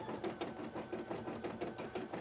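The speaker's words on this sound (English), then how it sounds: "To the embroidery machine, and then it sews them up for you." Embroidery machine stitching, a close, quiet rapid mechanical chatter with a steady rhythmic pulse and no talk.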